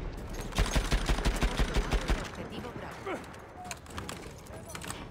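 Rapid automatic machine gun fire from Battlefield 1 rattles in a tight, loud burst for nearly two seconds, then drops away into quieter battlefield ambience with scattered distant shots and faint voices.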